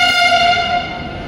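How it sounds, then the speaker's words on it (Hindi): An arriving metro train sounds its horn: one loud, sustained, tonal blast that holds steady and then fades slightly toward the end. "जैसे आपको हॉर्न भी सुनाई दिया होगा।"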